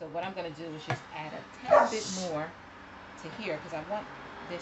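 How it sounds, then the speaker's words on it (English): A dog barks and whimpers in another room, muffled yips and short barks coming through under a person talking nearby while mixing soap. "And yes, he's barking in the other room."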